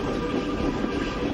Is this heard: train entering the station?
yes